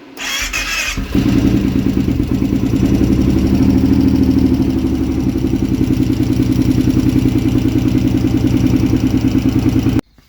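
A Kawasaki Brute ATV engine cranks briefly and catches after a cold start, then settles into a loud, steady, close-up idle with an even rhythmic thump that runs for nearly ten seconds.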